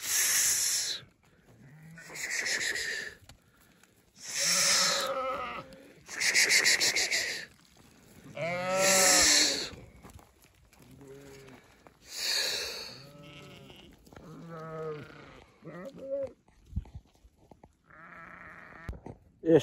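A flock of sheep bleating outdoors on a farm, a series of loud, wavering calls with short gaps between them, some overlapping, growing softer and more scattered toward the end.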